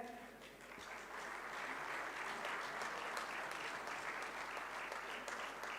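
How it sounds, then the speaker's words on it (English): An audience applauds at the LMP International Awards ceremony, a continuous, even roar of many hands clapping that holds steady at a moderate distance throughout. "give a huge round of applause"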